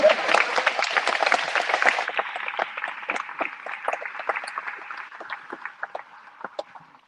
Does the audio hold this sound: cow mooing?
no